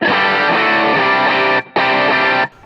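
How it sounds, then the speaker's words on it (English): An electric guitar plays through a Case Study Aspen overdrive pedal, the third drive on a worship pedalboard, with a tight, focused and pushed upper-mid tone. Two loud driven chord strums are each choked off abruptly, with a brief gap between them. "And then drive 3 is the case study Aspen."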